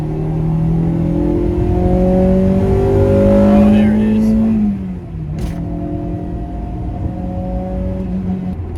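A 1997 Acura Integra Type R drives around the block, its engine droning steadily with rising pitch as it accelerates, then easing off into a lower, steady cruise hum with road noise throughout.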